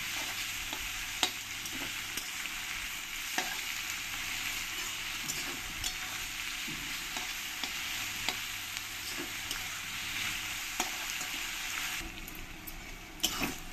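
Onions sizzling in a pan while being browned for mutton kosha: continuous close frying hiss with occasional stirring scrapes and ticks spread through, alone without talk.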